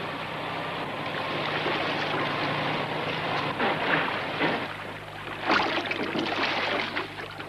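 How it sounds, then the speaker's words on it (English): Boat motoring on open water off Byblos, a continuous droning engine hum mixed with water wash and wind, fairly loud and steady, with a few surging splashes toward the end. "Why'd you turn off the engine? I didn't like that noise."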